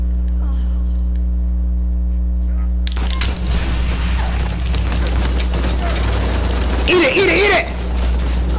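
Bursts of gunfire crackle through Uncharted 4 multiplayer over a steady low electrical hum, starting abruptly partway through and continuing in dense rattling volleys while someone shouts excitedly.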